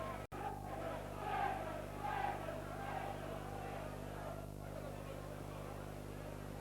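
A near-capacity rugby league crowd at Norton Park murmurs and swells faintly in the distance during a Widnes versus Wigan Lancashire Cup match on a sunny day, a steady low hum with broadcast noise.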